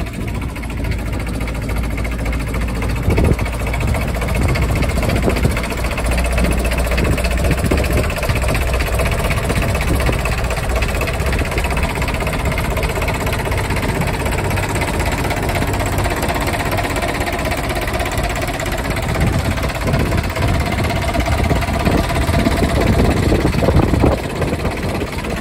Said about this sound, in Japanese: エンジンの方も一発始動です。